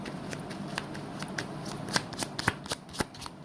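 A deck of tarot cards is shuffled for a reading, a close, steady riffling that breaks into sharper separate snaps toward the end.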